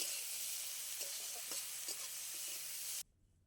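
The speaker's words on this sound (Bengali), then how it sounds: "তেল গরম হয়ে গেছে, চিংড়ি মাছগুলো আমি ভেজে নেব।" Prawns sizzle in hot mustard oil in a wok: a dense, steady hiss and crackle for about three seconds, close and loud, with a few sharper pops before it stops abruptly.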